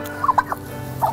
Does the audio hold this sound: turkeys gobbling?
yes